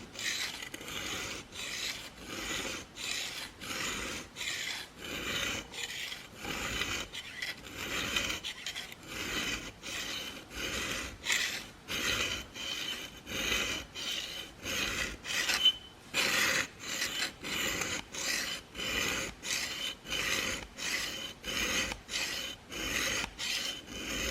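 A knife blade is drawn back and forth across a diamond sharpener in regular rhythmic strokes, each a close, dry rasping scrape, repeating steadily for over twenty seconds with no voices.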